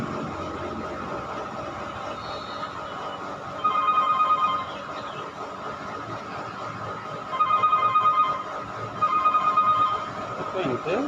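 An office telephone rings in repeated electronic bursts, three separate rings spaced a few seconds apart, fairly close and clear over a low room hum with faint background sound.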